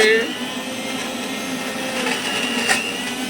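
A mixer grinder whirring in a home kitchen during morning tiffin prep, a steady high-pitched motor drone running continuously with a slight swell near the end, while someone talks over it.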